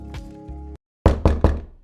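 Three firm knocks rap on a door in Hypixel Skyblock, struck in quick even succession and loud and close, after a short stretch of steady game music that cuts to silence.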